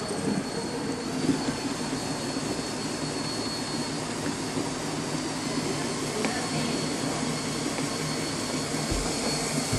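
A continuous whirring, buzzing motor drone hums steadily nearby, like a small toy aircraft rig spinning nonstop, with no voices.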